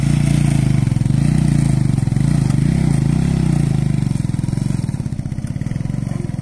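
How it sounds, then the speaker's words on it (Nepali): A motorbike labours along a rough, rain-soaked road near Tarkeshwar, Kathmandu, its engine a loud, continuous close throb with pulsing rhythm and light rattling throughout. "यस्तो बाटोमा चाहिँ बाइक हाले हैन"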